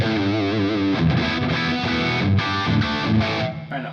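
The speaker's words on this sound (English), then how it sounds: "Here's the Overdrive, the preamp Overdrive at noon." Electric guitar through a Soldano SLO 30 amp on its preamp overdrive channel with the gain at noon, played with a high-output pickup: a loud, thick distorted riff of chugging chords and sustained notes, continuous and close with no talking.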